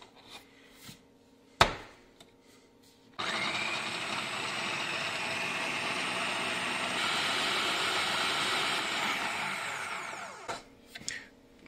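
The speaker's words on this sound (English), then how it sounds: "So now the onions are in there and we want to puree them." A food processor purees onions in a kitchen, running as a loud steady whirring motor for about seven seconds, with a few clunks and knocks before it starts and after it stops.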